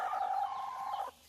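A native chicken on a country chicken farm gives one sustained, close call that cuts off sharply, leaving quiet behind.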